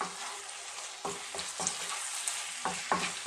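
Mushrooms and zucchini sizzle steadily in a hot pan over medium heat, with a constant frying hiss broken by several stirring scrapes, close and fairly loud, with no talking.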